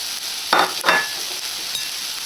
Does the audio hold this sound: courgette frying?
yes